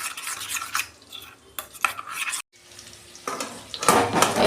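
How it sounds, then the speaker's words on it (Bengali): A spoon stirs spice paste and turmeric into sour yogurt in a bowl, giving a series of close, wet scraping and clinking strokes with brief pauses between them. "এটাই মশলাটা ভালো করে গুলে নেব।"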